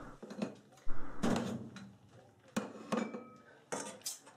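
A heavy pan clanks and scrapes against metal with several sharp knocks, mixed with softer kitchen clatter, fairly close and without talk.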